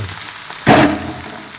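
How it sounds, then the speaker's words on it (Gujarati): Fresh turmeric drops into hot ghee in a pan, setting off a sudden loud sizzle that swells up and then settles into a softer, steady frying hiss. "હળદરને તળવા મૂકીને એટલે હળદરને આવી રીતે મલાવતું રહેવાનું"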